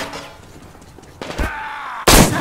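Gunfire in the post-apocalyptic shooter Metro Exodus: a couple of loud, close shots, the last one hardest, ringing out over quieter game ambience.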